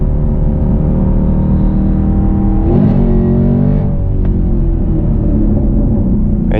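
A 2020 Chevrolet Camaro SS 1LE engine pulls hard while driving, with a loud, steady close-up rumble and a brief shift-like break midway before the drone resumes, with no talking.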